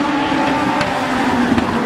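Race cars at North Star Speedway roar steadily down the back straightaway, a loud continuous engine drone with brief swells as cars push past, no voices over it.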